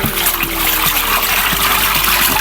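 Stream water trickling and splashing steadily near Krasnousolsk, Bashkortostan, a close continuous babble filling the whole stretch with no talk.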